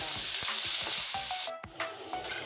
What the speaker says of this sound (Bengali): এবার আলুটা আমি তেলে ছেড়ে দিচ্ছি ভেজে নেব আলুটা তেলে ছেড়ে